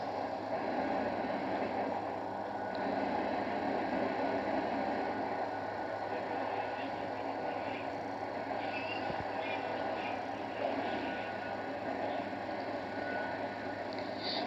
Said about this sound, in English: I'm still on the train